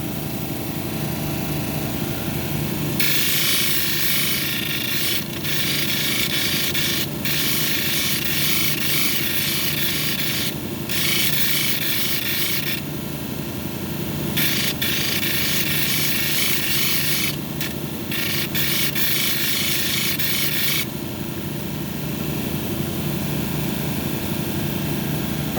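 A hematite cabochon is ground on a 280 grit wheel, giving a steady motor hum with bursts of harsh, close grinding that start and stop as the stone is pressed on and lifted off, with no talking.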